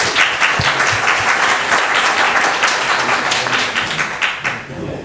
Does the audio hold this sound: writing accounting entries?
no